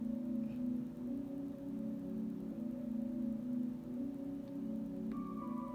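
Sustained synth bass notes layer, smooth and steady with soft swells and no rhythmic chopping, played alone at moderate volume.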